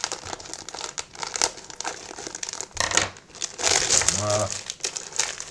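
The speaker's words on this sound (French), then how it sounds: "Avant d'ouvrir le deuxième pack de cartes, je vais ouvrir le starter pack." Crinkly plastic wrapper of a Premier League trading card starter pack being torn open and crumpled in bursts, close by, with a short spoken word partway through.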